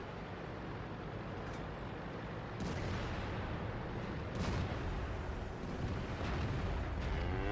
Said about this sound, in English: So the artillery fired